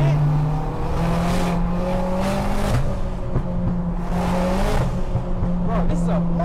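A heavily tuned 502 bhp Ford Fiesta ST150 pulls hard through the gears, its loud engine drone rising and holding steady from inside the car while people talk over it.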